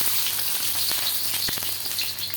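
Oil heating in a cooking pan for a vegetable curry, a bright continuous hiss and crackle with scattered sharp pops, close and steady throughout, nobody talking.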